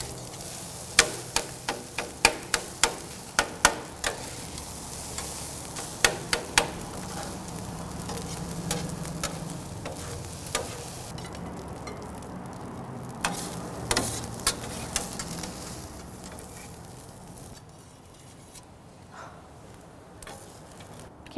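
Leftover turkey fried rice is broken up and stirred in a hot pan: a soft continuous sizzle under repeated sharp spatula scrapes and taps, clustered early and thinning out toward the end.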